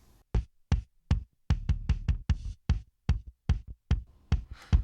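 A kick drum pattern with a compressor directly on the channel repeats alone, each hit short and tight with a clicky attack, fairly quiet and evenly spaced with occasional doubled beats.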